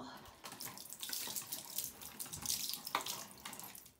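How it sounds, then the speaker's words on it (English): Water poured from a pitcher splashes steadily over a homemade waterwheel resting in a bathtub, a continuous close rushing and trickling that lasts about four seconds. "So I have a pitcher full of water, and I'm gonna pour it over"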